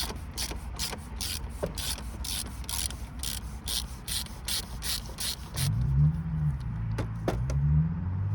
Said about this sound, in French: Alors je prends ma douille de 32 avec mon gros cliquet.